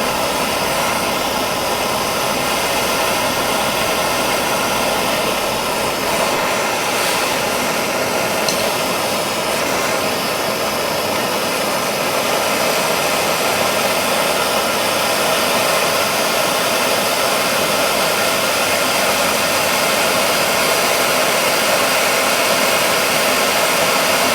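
A regular propane torch heats a broken-off stud on a 1979 Suzuki 25 HP outboard, giving a loud, steady roaring hiss that runs unbroken throughout with no talking.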